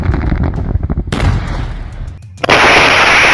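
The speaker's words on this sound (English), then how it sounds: "This was a gas cylinder explosion." A gas cylinder explodes with loud booming blasts and rough crackling bursts, followed by a sustained roaring wash of noise, close and overwhelming.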